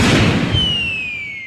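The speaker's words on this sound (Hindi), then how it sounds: "ये कैसा धमाका हुआ भाई ताऊ की लुंगी में?" A firecracker goes off at close range during Diwali, a single loud broadband blast that decays over about a second, with a thin high ringing tone trailing off after it.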